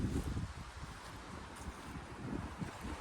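Outdoor wind rumbles steadily against the microphone on a breezy afternoon ahead of rain, a low, faint, continuous buffeting with small gusts.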